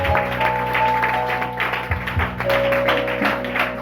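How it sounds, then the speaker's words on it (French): A church congregation applauding the Lord, with dense, steady clapping that carries on throughout at a fairly loud level and some tonal sound under it. "Acclame très fort pour le Seigneur."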